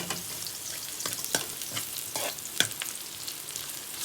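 Ingredients for pork cooked in shrimp paste sizzle and get stirred in a frying pan, a steady soft hiss broken by scattered scraping clicks of the spatula, with no talking.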